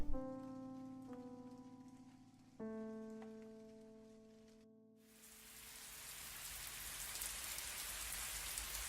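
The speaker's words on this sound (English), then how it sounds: "The rain outside wasn't too heavy, but somehow it felt like the earth was drowning under the downpour." Steady rain hisses loudly after a quieter tonal opening with sustained notes, the downpour continuing unbroken to the end.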